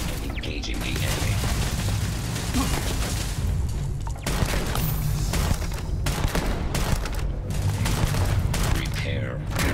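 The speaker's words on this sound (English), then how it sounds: "I am opening fire." Continuous gunfire and bursts of weapon fire during a space-combat fight in Starfield, dense and loud throughout with booms and mechanical clatter layered over game music and effects.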